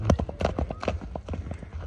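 Hooves of a strong horse clip-clopping as it is ridden, a quick, even run of close, distinct beats over about two seconds, with faint voices under them.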